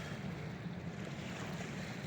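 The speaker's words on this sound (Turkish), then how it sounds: "Hafif bir rüzgar da var." Steady, low rumbling light wind buffeting outdoors on a snowy fishing spot, constant and unbroken, with a broad whooshing wash and no voices.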